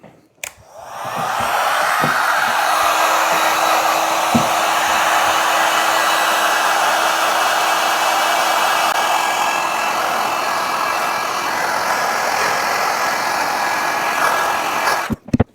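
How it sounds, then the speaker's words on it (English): A heat gun blows a steady, loud rush of hot air over creased Loake leather shoes, running continuously for about thirteen seconds with a faint whine before switching off. "Back with the heat gun."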